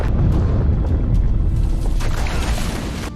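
A ship blown up with C4 in a film scene: a loud, sustained low rumbling boom that rolls on for about three seconds, with crackling debris and roaring fire filling the mix and no voices.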